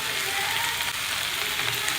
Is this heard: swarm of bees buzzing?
no